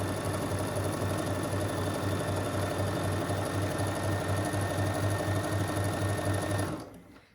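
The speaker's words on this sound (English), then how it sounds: "now we are going to sew 1/4 of an inch on each side of our line" A sewing machine runs a quarter-inch seam on each side of a marked line, its steady close mechanical whir continuing without a break for several seconds before it stops abruptly near the end.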